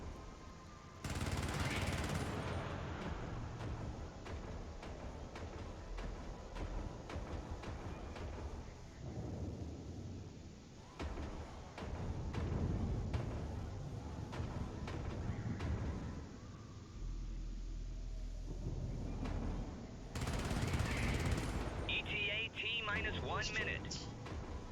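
Defensive turrets in the Helldivers video game fire rapid bursts of shots with rumbling booms, going on steadily under a voice that talks throughout.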